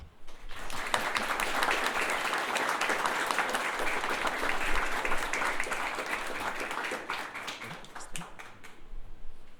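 Sustained audience applause greets a recipient at a native plant scholarship and propagation grant award ceremony, a dense, steady clapping that holds for nearly ten seconds before thinning slightly toward the end.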